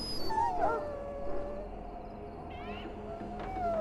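Barkspawn, the dog in a video game, whines and whimpers with thin high rising cries over a low steady game ambience, faint and fairly close, with no talk.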